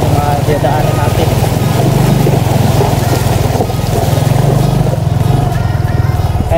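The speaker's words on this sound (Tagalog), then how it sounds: "Kaya naman ng motor kasi naka Honda XRM 125 Fi tayo" A Honda XRM 125 Fi motorcycle on a rough ride toward Nueva Vizcaya hums with a steady, loud, close engine drone and rumble the whole time.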